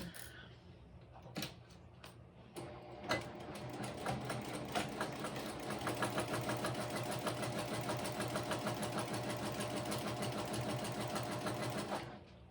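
Sewing machine stitching a seam on a backpack, with a few clicks and knocks before the motor kicks in, then a rapid steady mechanical chatter running several seconds before stopping abruptly.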